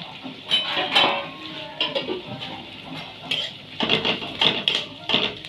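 Puran, a cooked lentil filling with turmeric added, being stirred in a pot, with irregular scraping and clattering of a spoon against the metal, moderately loud and close.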